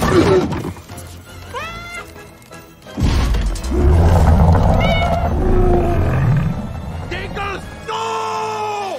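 A cartoon cat meows in several rising, stretched calls amid busy animated sound effects and thumps, with a short whinny-like cry mixed in near the end.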